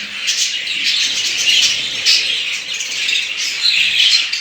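A chorus of budgerigars chirping and chattering continuously, bright and busy, fairly loud and close, with no talking.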